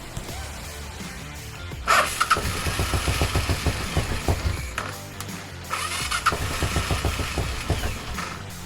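A Suzuki DR 750 motorcycle engine fed starting fluid coughs into life and runs roughly, with two loud bursts of firing separated by a brief dip, its uneven pulsing idle close by and no talk.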